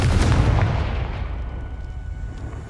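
Confringo explosive spell in Hogwarts Legacy, a single loud, close, deep blast at the start that decays into a long rumbling tail with faint debris crackles.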